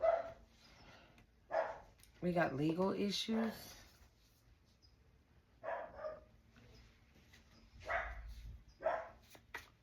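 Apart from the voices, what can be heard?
dog barking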